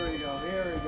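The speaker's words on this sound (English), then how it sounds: "Ring the bell" A ringside bell at an intergender wrestling match rings with a sustained metallic tone, its steady ringing overlapped by people talking.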